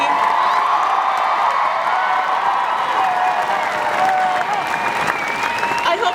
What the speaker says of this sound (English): a round of applause for just everything